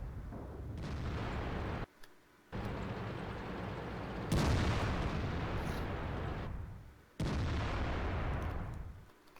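Tank guns fire concentrated fire in a tank video game, with heavy booming blasts rolling into one another. The loud, sustained barrages break into several bursts separated by short gaps.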